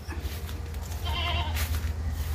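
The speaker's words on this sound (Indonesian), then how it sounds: "Di sini tuh yang terdengar suara mbek." A goat bleats from a pen at the edge of a forest, a short wavering call over a steady low hum and ambient background noise.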